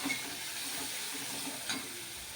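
Tomatoes sizzle and fry in a pan over a medium flame, giving a steady close hiss with a couple of brief stirring scrapes and no talking.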